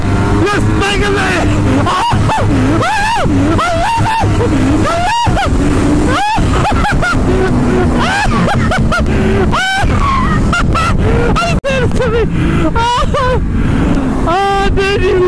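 Yamaha R1 motorcycles, a 2010 and a 2006, accelerating hard from about 50 in second gear, with loud continuous engine roar and rising revs mixed with wind rush and excited talk throughout.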